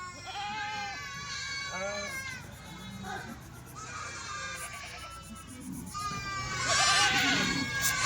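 Kathewadi sheep of a herding flock bleat repeatedly, several overlapping calls rising and falling at close to middle distance, with the loudest cries near the end over a steady outdoor murmur.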